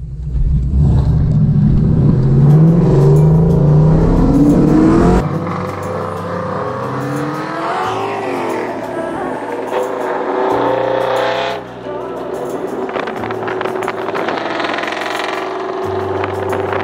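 A 1999-2004 Ford Mustang GT with a two-valve V8 roars loudly under hard acceleration in a roll race, the engine note climbing for about five seconds before dropping to a lower steady drone as the car eases off.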